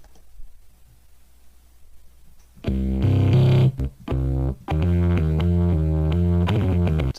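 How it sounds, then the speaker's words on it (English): A sound pitched down two octaves and run through a distortion amp plugin bursts in after quiet, a loud, buzzy, harmonically dense tone in choppy bursts with short gaps, then sustaining to the end. "Let's grab a distortion plugin. Let's grab ourselves an amp here."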